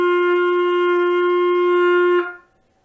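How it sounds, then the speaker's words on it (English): A trumpet plays a higher note that results from lips held too tight, a bright sustained tone held evenly for about two seconds before ending with a short tail. "If your lips are too tight, you might get a higher sounding note like this."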